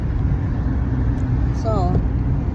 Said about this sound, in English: So I have a van coming up on the left side of me.